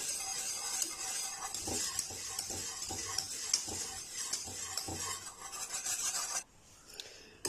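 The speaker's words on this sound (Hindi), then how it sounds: "1-2 मिनट के लिए अच्छी तरह चमचा चलाते हुए पकाएं" Custard cooking in a pan on the stove for a vermicelli dessert, with a spoon scraping and stirring it in a steady rasping rhythm. A faint sizzle sits underneath, and the stirring stops abruptly near the end.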